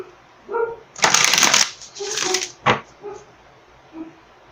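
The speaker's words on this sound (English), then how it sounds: "I'm going to pull 2 oracle cards for you" A deck of oracle cards being shuffled in several quick riffling bursts, close and crisp, with short pauses and a few soft taps between them.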